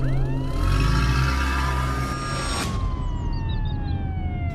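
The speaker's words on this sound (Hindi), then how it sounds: "तभी पुलिस की गाड़ी सुरेश के घर आती है।" A loud police siren wails nearby, its pitch rising and falling, then sliding into a faster warble over a rumbling engine.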